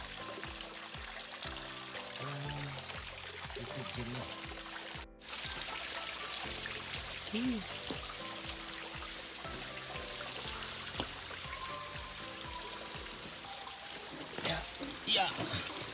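Water from a hillside gravity-fed spring pours and trickles steadily at close range, a continuous rushing wash with people talking over it.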